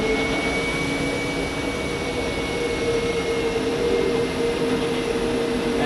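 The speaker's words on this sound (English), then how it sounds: "next up is the 777 to Chicago" A Boeing 777 jet departs for Chicago, a loud, steady jet engine roar with sustained tonal whines, heard alone with no talking.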